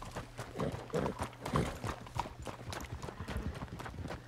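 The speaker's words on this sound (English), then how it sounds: "Oh, that's a horse." Horse hooves clip-clop on a street in Red Dead Redemption 2, a steady run of close, fairly loud hoof strikes with a low ambient hum underneath.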